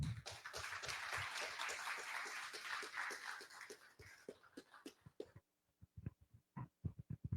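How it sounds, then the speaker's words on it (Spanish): An audience at a documentary screening applauds in a sustained patter of claps that fades after about five seconds, leaving a few scattered, closer individual claps in near silence. "Con un fuerte aplauso recibamos al doctor Joel Palca."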